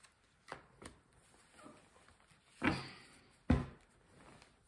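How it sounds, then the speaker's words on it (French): Tarot cards shuffled and handled on a table for a card draw, with soft scattered riffles followed by two sharper slapping bursts, quiet and close. "Allez, pour les béliers, on va aller chercher une petite carte"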